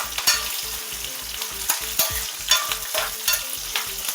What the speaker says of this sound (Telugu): ఇవి కూడా 1 నిమిషం వేగనిద్దాం.